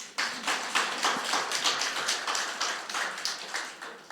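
A church congregation claps during a Sunday worship service, a dense run of many hands forming steady, fairly soft applause that swells and dips in regular pulses for several seconds with no talking.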